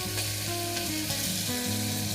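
Tomato drops into a pan of frying mutton masala, setting off a loud, continuous sizzle with crackling spits and a brief stirring scrape, close up and with no voices.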